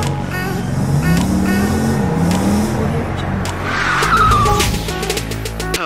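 A car drifting in the mobile game Car Parking Multiplayer, engine droning steadily while tires squeal and skid in sweeping slides, loud and continuous with a sharper screech building near the end.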